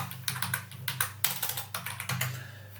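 Computer keyboard typing PHP backend code: rapid, close clicking keystrokes in uneven bursts over a low steady hum, no voices.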